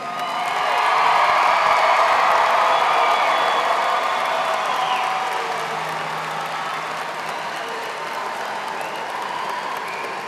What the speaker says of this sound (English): One more round of applause for the class of 2014.